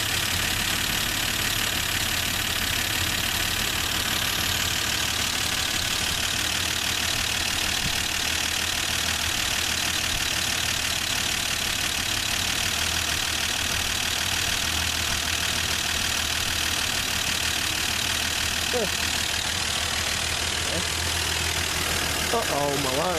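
A long-forgotten Plymouth Valiant engine runs on a temporary fuel line, settling into a steady, loud, rough idle that drones on throughout, with people talking over it.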